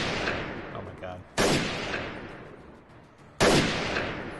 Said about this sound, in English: God, those gunshots are loud.